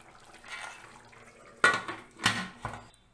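A pressure cooker lid is shut over a pot of vermicelli and water: a few sharp metallic clanks and knocks, loud and close, after a quiet stretch with no talking.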